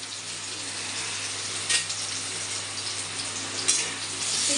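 Noodles fry in very hot oil in a wok with a steady, close, loud sizzle, broken by two brief louder bursts as they are stirred or tossed.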